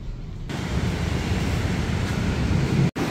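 Water runs steadily from a sink tap in a hostel shared bathroom during face washing, a broad continuous hiss that starts abruptly and holds evenly, with a brief cutoff near the end.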